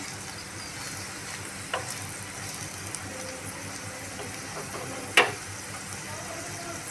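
A steady sizzle of potatoes frying in hot oil, with a couple of faint clinks partway through; no talking.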